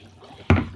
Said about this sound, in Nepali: आउँदो रहेछ पानी।